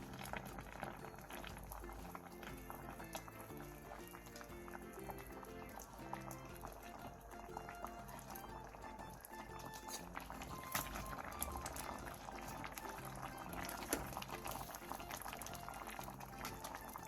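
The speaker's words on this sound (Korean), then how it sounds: "중약불로 줄여 5분 정도 더 끓여주세요" Perilla seed soup with dried pumpkin strips and dried shrimp, thickened with perilla powder and rice flour, with onion and minced garlic, simmers in a pot over medium-low heat, a steady soft bubbling that runs throughout beneath continuous background music.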